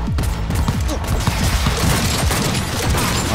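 A powerful weapon in Cyberpunk 2077 fires continuously in a loud, dense barrage of booming shots, packed closely together with no pause throughout.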